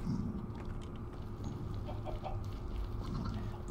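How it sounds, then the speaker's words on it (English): Chickens in the Minecraft video game cluck in short repeated calls over a steady game background, at moderate loudness with no talk. "You guys like chickens, right?"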